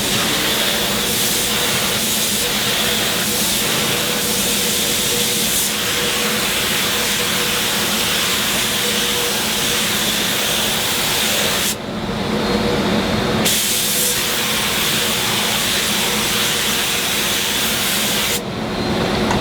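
A spray gun applies tannin-blocking primer to wood cabinets with a loud, continuous close hiss that runs nearly unbroken, pausing briefly twice.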